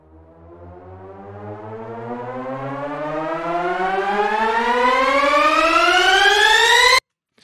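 A trailer riser built in the Vital synth, a rich harmonic tone that climbs steadily in pitch and grows louder over about seven seconds, then cuts off abruptly into silence.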